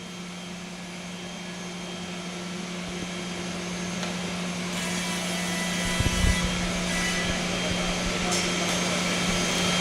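A Holz-Her edgebander runs a panel with a steady, loud mechanical drone and a strong hum, a few knocks and thumps partway through, with a person talking over the machinery.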